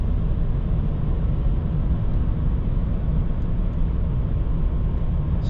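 A Silverado 1500 with the Duramax 3.0 LM2 diesel, towing while braking down a grade, gives a steady low engine drone that holds even and continuous without a break, no talking over it.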